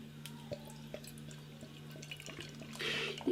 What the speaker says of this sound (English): Ruby Red Ale is pouring.